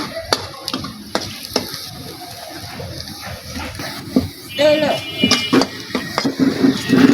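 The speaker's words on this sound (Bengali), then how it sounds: "ভাজা ভাজা হয়ে গেছে আমার, পেঁয়াজ রসুন ভাজা হয়ে গেছে" Onion and garlic frying in hot oil, stirred with scraping clinks and a steady sizzle that swells toward the end, with voices talking over it.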